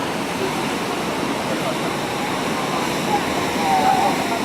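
Small waves at an Indonesian surf spot make a steady broadband wash of surf, continuous and fairly loud, with a faint tonal sound briefly rising near the end.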